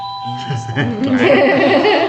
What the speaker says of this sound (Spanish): When we say the doorbell rings, ding dong.